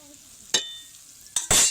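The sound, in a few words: boondi batter drops frying in hot oil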